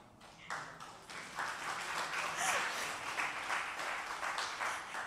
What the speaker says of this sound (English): I'm just going to imagine that most of that applause was actually for Shirley Chisholm and Fannie Lou Hamer